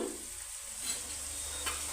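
A soft, steady sizzle of blended tomato puree frying in a pan for egg curry, quiet and close.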